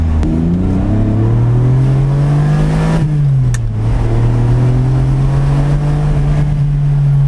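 Loud, deep engine note of a V12 sports car climbing in pitch as it accelerates, dipping briefly between gears, with no talking.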